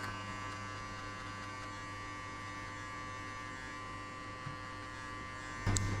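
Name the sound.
electric hair clipper cutting a skin fade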